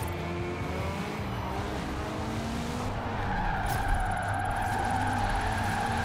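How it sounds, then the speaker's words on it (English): Porsche tires squealing as they break loose in a drift while racing in Forza Horizon 4, a steady loud screech over engine roar that swells slightly louder midway and holds continuously. "So it still breaks its tires, so we can see how it handles in the little donut section."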